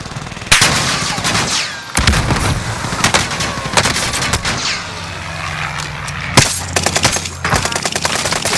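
Rapid, loud bursts of gunfire from Call of Duty: Warzone crack through a firefight, with several sharp volleys and short pauses between them and no talk over the shooting.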